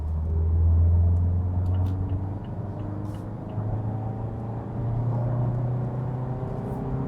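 A 2021 Mazda CX-3 accelerates in third gear from 60 to 100 km/h, its engine drone climbing steadily in pitch under constant road and cabin rumble.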